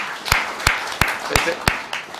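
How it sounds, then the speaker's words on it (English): A small audience at a social business design lab claps in a slow, evenly spaced rhythm, five or six loud, crisp claps close by with brief gaps between. "We give a big applause for them."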